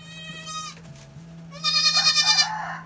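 Baby goats bleat on a goat farm: a couple of close, nasal bleats, then a louder, longer wavering cry near the end, over a low steady hum.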